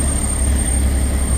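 A car engine idles steadily, a loud low rumble with a constant high whine above it, close by and alone; the engine has had valve cover gasket work, sometimes starts badly and runs a bit smoky.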